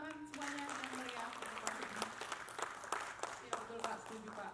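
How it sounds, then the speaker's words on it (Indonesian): An audience at a panel discussion on a study-tour ban breaks into applause that starts over a fading voice, growing into a room of scattered hand claps with sharp individual claps standing out. "Tepuk tangan semuanya yang meriah"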